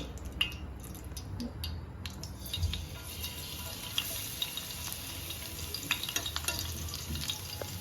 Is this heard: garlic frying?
yes